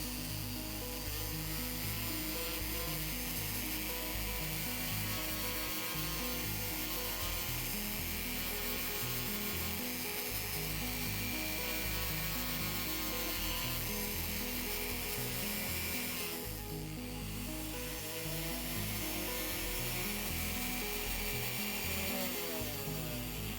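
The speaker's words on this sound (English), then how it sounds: "This tool is called a flex shaft, and you can add little bits to the end of it that have different purposes, like filing the metal, polishing it." A flex shaft rotary tool grinds and polishes abalone shell hearts for jewelry settings, a steady, loud whining hum with a rough, rubbing texture that runs continuously with slight shifts in pitch throughout.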